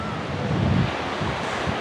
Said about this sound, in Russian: день не пляжный, потому что достаточно ветрено